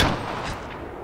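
Shotgun fire in Call of Duty on the Shoothouse map, a loud blast opening the moment and decaying into a dense rumbling tail over about a second, with no talk.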